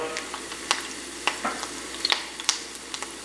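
Herbs and oil sizzle in a hot pan as aromatics for a whole oven-baked red snapper, a steady frying hiss broken by sharp pops and crackles scattered throughout, with faint stirring clinks.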